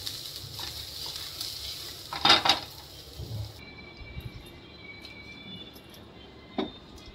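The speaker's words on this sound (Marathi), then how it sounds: "आता हे चांगलं आपण परतून घेऊया." Soybean masala with green chillies sautéed in a pan, a soft steady sizzle with a few louder scraping stirs in the middle and a brief clink near the end, no talk.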